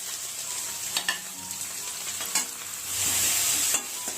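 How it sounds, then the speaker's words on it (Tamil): Chopped onions and curry leaves fry in oil, a close steady sizzle broken by a few spatula strokes, then a louder hissing burst near the end as the leaves hit the hot oil. "இப்போ நம்ம கருவேப்பிலை சேர்த்துக்கலாம்"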